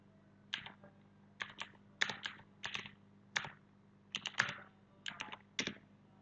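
Computer keyboard keys are tapped in short, evenly spaced clusters while an IP address is entered into a browser, crisp and close against a quiet background hum.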